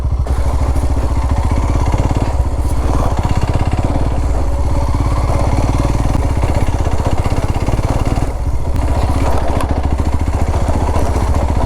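A motorcycle engine labors up a steep hillside road on a sunset ride, loud and close with a continuous rough drone and no talking.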